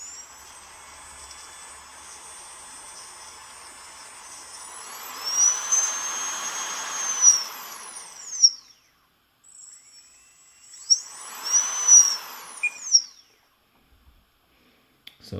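A small Lesu 850K bulldozer track motor runs on its mount without the gear assembly, giving a steady high whine that rises and swells in two bursts, then stops, close and clear with no talk.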